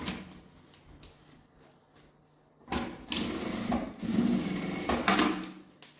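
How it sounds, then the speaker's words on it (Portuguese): A sewing machine stitches a half-foot seam through the lining of a sling backpack, running in a quiet, uneven burst and then a louder, steady run of stitching in the second half. "vou fazer uma costura de meio pé de máquina"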